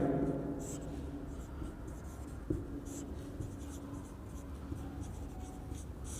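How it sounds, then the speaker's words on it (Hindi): Pen or chalk strokes scratch steadily by hand as an abstract algebra proof on ideals and quotient rings is written out, a soft continuous scrawl with a few sharper taps and no speech. "सबसे पहले तो क्या दिया है वो लिख देते"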